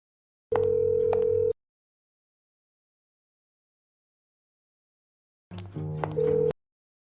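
Two separate one-second bursts of a steady electronic telephone ringing tone sound during a call, separated by about four seconds of silence, clear and alone.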